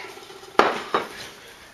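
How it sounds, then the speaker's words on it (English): A bowl holding spaghetti sauce is shifted on a kitchen counter. Two quick hard clacks sound close by, the first louder, followed by near silence. "I'll move my bowl over here just in case I drop any."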